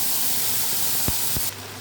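Ground bottle gourd seed paste hits hot oil already seasoned with black cumin, making a brief, steady sizzling hiss broken by two quick soft thumps near the end.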